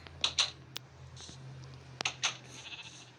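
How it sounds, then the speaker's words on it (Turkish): Several short sheep bleats sound nearby over a low steady hum, with a few sharp clicks in between. "Koyuncuğumuzu besledik."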